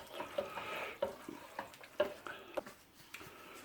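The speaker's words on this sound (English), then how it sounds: "So mix it well, like you can see me doing right here in the pan." Creamy spaghetti stirred in a pan, with soft wet squelches and scraping swishes coming in irregular bursts, close and moderately quiet.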